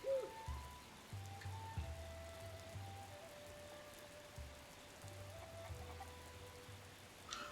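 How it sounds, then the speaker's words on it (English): Rain falling in the Breath of the Wild video game, a soft, steady hiss of drops spread across the whole scene, faint and constant, with low game tones humming underneath. "I kind of wish it wasn't raining."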